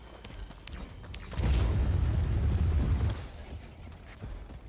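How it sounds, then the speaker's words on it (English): A flamethrower fires in Helldivers 2, a dense roaring rush that swells for about two seconds and then fades back into a quieter game backdrop. "Y'all, this is a flamethrower"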